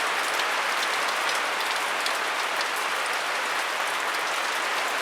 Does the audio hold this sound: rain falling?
yes